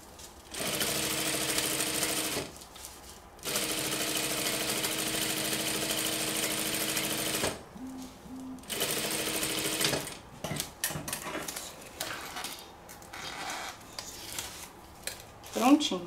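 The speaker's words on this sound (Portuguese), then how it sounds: "dou o retrocesso e vou costurar até aqui no finalzinho da minha linha" A sewing machine stitches a homemade kitchen oven mitt in steady mechanical runs, two long bursts with a brief pause, a short backstitch, then quieter handling and fabric rustle.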